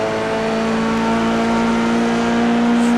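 An F3 race car at Kansas Speedway heard from on board, its engine a steady, loud, high-pitched drone holding a constant note for three seconds, close and continuous with no talk.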